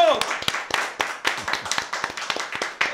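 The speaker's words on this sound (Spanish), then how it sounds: "Vamos a darle ese fuerte aplauso." Clapping in a studio during a podcast welcome. The claps are close, rhythmic and fairly steady, as if from a small group.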